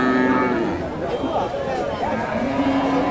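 Jersey and Friesian cattle at a busy Bogura livestock market, with a low moo or bovine lowing under a dense babble of crowd voices and nearby speech.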